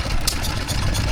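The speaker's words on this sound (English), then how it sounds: "I've never seen a Lion stationary engine before" A Lion stationary engine runs at an outdoor transport festival with a brief, steady low chugging drone, close by.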